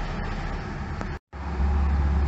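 Passing cars in steady city traffic along an embankment, heard as a continuous broadband roar with a brief cut partway through, then a heavier low rumble as a vehicle nears.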